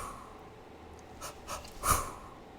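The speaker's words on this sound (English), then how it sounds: "it's the 2 deep breaths followed by a breath out" Two quick, deep breaths are drawn in through the nose, followed by a stronger breath out, all close and fairly soft against a quiet room.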